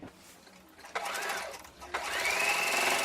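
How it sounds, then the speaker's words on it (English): Sewing machine edge stitching a triangle along a Christmas table runner, its steady motor whir starting in short bursts and then running continuously, close and fairly loud. "We're sewing as close to the edge of the triangle as possible"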